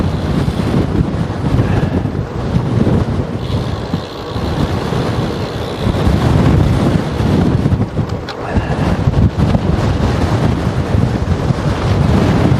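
Strong wind beats across an open stretch beside a row of wind turbines, a loud, constant roar of gusts buffeting the microphone with no clear breaks and no speech.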